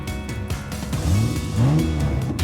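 A car engine sound effect revs during a playful cardboard-craft car race, with two rising, swelling revs over a steady low rumble, loud and close with no voices.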